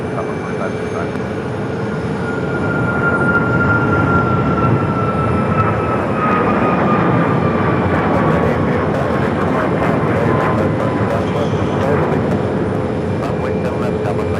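An airliner on its takeoff roll from a runway at Phoenix Sky Harbor airport, with a loud, steady engine roar and a slowly falling whine that builds and holds across the clip, with faint radio chatter.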